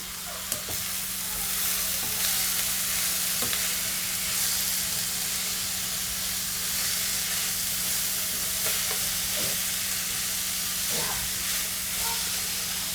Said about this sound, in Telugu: ఇవన్నీ మంచిగా కలుపుకుందాము.